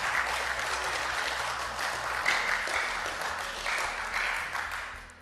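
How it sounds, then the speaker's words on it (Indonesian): Members at an Indonesian parliamentary commission meeting applaud after approving Supreme Court justice candidates. The clapping is steady and moderately loud in a large room, swelling slightly midway and then tapering off. "Pimpinan tepuk tangan dulu dong."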